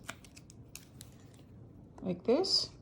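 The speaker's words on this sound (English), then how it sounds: "I took a pair of scissors and I just went along the outside like this" Scissors trimming along the outside edge of a candle to fit it into a jar, a few short snipping and scraping sounds near the end, close and moderately loud after quieter handling noise.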